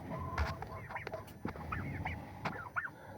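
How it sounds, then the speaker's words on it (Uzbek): Farm ducks give a scattering of short, nasal honking quacks, several calls overlapping at close range against a light outdoor background. "O'rdaklarimiz endi hozir videoga tushib qolyapti qandaydir."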